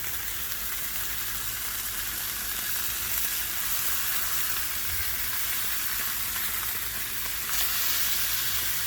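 Mutton and pork burger patties frying in a hot pan give a steady, dense sizzle that holds the whole time, close and fairly loud, with a faint low hum underneath and no talking.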